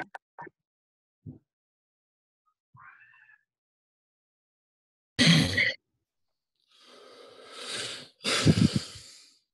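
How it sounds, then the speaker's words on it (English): Heavy breathing over a phone line during a conference call: scattered short breaths and sighs, then loud close huffing gusts near the end, with no talk. "Who is that over there breathing like that in the phone?"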